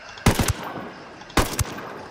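Two short bursts of automatic gunfire from a newly picked-up rifle in the video game Ghost Recon Wildlands, each a quick rattle of a few shots, loud and close, separated by about a second of quieter game ambience.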